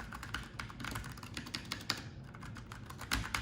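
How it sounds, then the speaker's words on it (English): Steady, quick typing on a Perixx Periboard 428 mini mechanical keyboard with Kailh low-profile brown switches, a dense run of close, crisp key taps with a few louder strokes, no voices. "It also uses the brown mechanical keys, so you kind of get an idea of the sound"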